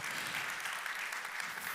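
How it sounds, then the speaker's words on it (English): Sustained audience applause fills a conference hall after news of an award win at a J.P. Morgan session, a dense, steady wash of many hands clapping throughout with no talk over it. "I wasn't angling for applause, but I will take it."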